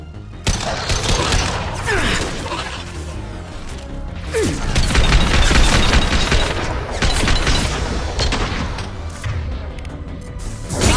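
Heavy, continuous gunfire in Mass Effect 2, dense overlapping bursts and booms filling the scene, loud and close throughout with no talk.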